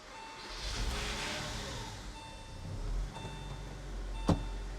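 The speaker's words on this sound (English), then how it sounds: "This is going to be actually the first actual cold start since doing the first start of the engine" A base-model Porsche Boxster engine makes its first cold start after being reassembled, a low steady idle rumble with slight revving swells and a sharp click near the end, heard up close without talk.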